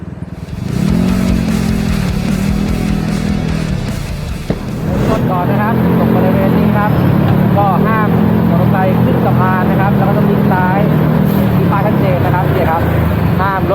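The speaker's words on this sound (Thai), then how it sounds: "มอเตอร์ไซค์นั้นต้องขี่แบบนี้ ถึงจะถูกต้อง" A motorcycle is ridden along a road in Thailand, its engine droning steadily with wind rush. Someone talks over the engine for much of the time.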